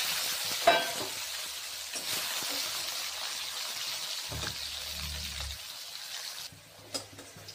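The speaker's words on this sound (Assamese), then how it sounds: "তাৰ পিছত আলুখিনিও ফ্ৰাই কৰি লৈছো" Potatoes frying in hot oil in a home kitchen, a soft steady sizzle with a few light clinks and stirs, fairly quiet and continuous throughout.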